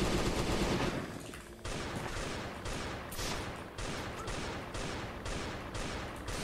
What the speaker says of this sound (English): Best gunshot sound ever.